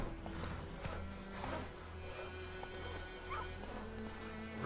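The horse Roach gallops in The Witcher 3 with a steady run of hoofbeats under game music and a hum of background sound, at moderate loudness and fairly close.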